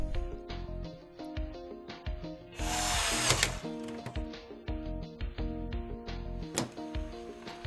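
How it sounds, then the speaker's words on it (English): A small screw is driven into the top of a PlayStation 2 console with a powered driver, giving bursts of motor whine and ratcheting clicks, with one louder whirring stretch partway through, close and clear with no talking. "Turn the unit over and insert the first screw on top."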